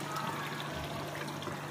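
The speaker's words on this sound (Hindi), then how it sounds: "अब मैं इसमें छोटा सा एक गिलास मैंने पानी इसमें डाल दिया" A small glass of water is poured into simmering fish fry salan curry gravy in a home kitchen, making a steady splashing pour that lasts throughout at moderate loudness.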